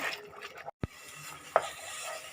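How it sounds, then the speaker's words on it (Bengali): Carrot halwa with sugar bubbles thickly in a pan while being stirred, with soft bubbling broken by a brief silence, a spoon scrape and a sharp clink against the pan. "চিনি দেওয়ার পর একটু ফুটছে, এবার একটু ঘন হবে"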